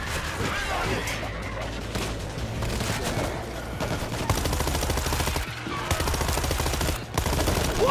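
Rapid gunfire rattles through a zombie-fighting battle in the video game World War Z, with dense bursts of automatic shots and steady crackling volleys, and a voice shouts briefly over the shooting.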